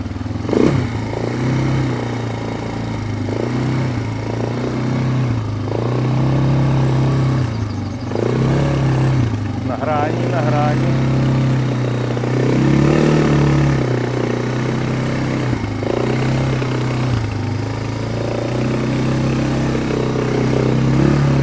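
A motor vehicle engine runs steadily and close by, its revs rising and falling over about twenty seconds, with some mechanical clatter and no talking.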